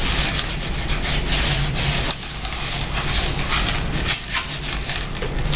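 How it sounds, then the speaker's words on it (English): Sand swirled around inside a gold pan to rough up its surface, a continuous loud gritty scraping hiss with slight rhythmic surges as the pan is worked, close up and with no talk. "We're just gonna take a bit of sand and run it around in there."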